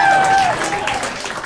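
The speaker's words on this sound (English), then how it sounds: "Keep clapping" Comedy club audience applauding at a live stand-up album recording, a dense, steady wash of clapping throughout with a voice briefly speaking over it.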